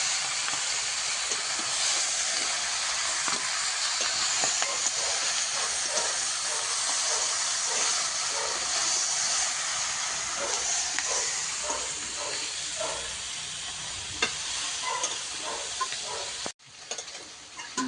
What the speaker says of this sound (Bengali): এবার ভালোভাবে কষিয়ে নিই।